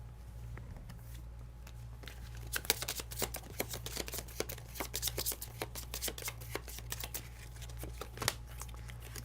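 Deck of cards for the Arkham Horror card game being riffled and shuffled, a run of crisp fluttering bursts and soft taps lasting several seconds, close and fairly quiet with a low steady hum beneath.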